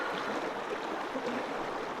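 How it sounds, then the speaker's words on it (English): A flowing stream outdoors in nature, a steady, close, continuous wash of running water with soft bubbling and no voices. "just listen to the sound of this water for a moment"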